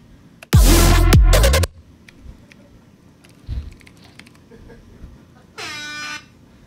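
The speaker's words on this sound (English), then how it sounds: "this time we're gonna go air horns." Air horn samples used as dubstep sound design: one loud, sustained blast of about a second, a faint short blip, then a shorter, brighter horn burst near the end, all played alone without talk.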